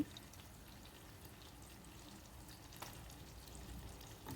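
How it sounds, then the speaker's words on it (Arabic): Crushed garlic toasting gently in a pan, kept pale rather than browned, gives a faint, steady hiss of low sizzling throughout with no talking. "عندي هون الثوم، نحمص الثوم اول شي"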